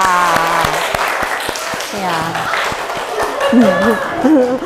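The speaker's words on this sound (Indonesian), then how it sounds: "kasih aplaus dulu" Students in a classroom clap in applause, a run of sharp irregular claps mixed with children's voices and chatter throughout.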